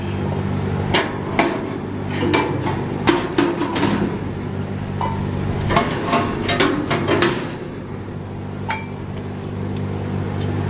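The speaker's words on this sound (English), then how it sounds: "remove this right here, these gas ports just lift out." Metal gas burner ports lifted out of an outdoor fryer on a mobile kitchen trailer, giving a series of sharp metallic clinks and knocks at close range over a steady low hum, with no talking.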